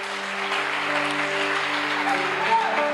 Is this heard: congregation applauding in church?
yes